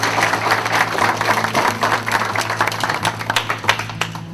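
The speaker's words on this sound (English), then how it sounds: "I'd like you just give a round of applause." Graduation audience applauds with steady, dense clapping throughout, a warm crowd sound heard close, with a low steady hum underneath and no talk on top.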